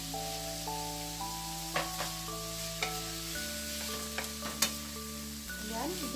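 Shrimp paste sautéing in a pan, a soft, steady sizzle with occasional stirring scrapes and light clinks, fairly quiet, with a faint tonal hum running underneath.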